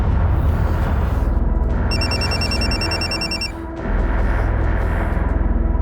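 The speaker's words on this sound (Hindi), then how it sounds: "दीदी का फोन आ रहा है" A phone rings with a repeating electronic trill over a loud, steady background of noise and music.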